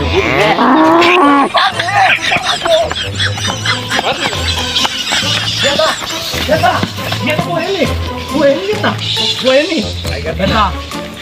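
A cow moos repeatedly, low drawn-out calls close by, while people talk over and between them.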